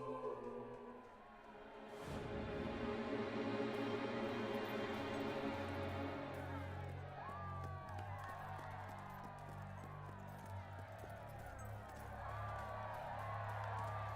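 Crowd noise from a gathered populace greeting the King of Albion in the video game Fable 3, a steady mass of cheering, whoops and clapping that swells early and holds throughout, with game music beneath.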